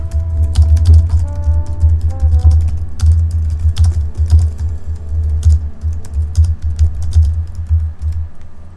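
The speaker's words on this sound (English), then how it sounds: "I'm gonna type it out" Rapid clicking keystrokes on a computer keyboard during a live stream, steady and close, running continuously over a low background hum with faint tonal sounds in the background.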